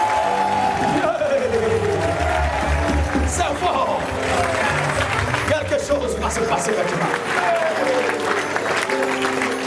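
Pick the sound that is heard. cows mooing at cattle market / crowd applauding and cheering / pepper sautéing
crowd applauding and cheering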